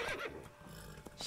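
A single horse gives a short, breathy whinny in The Witcher 3: Blood and Wine, heard up close and fading quickly, with no talk over it.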